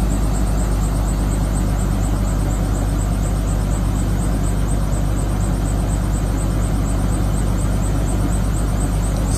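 Orchard-Rite 454 wind machine engine running steadily, a loud, continuous drone with a constant low hum and a fast fluttering whine above it, holding even throughout with no voices.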